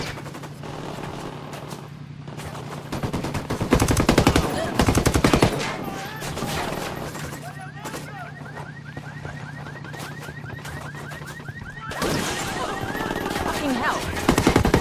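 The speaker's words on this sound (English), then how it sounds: "I'm opening fire." Rapid automatic gunfire rattles through a combat scene in the video game Ghost Recon: Wildlands, with repeated bursts over background noise and a loud flurry near the end.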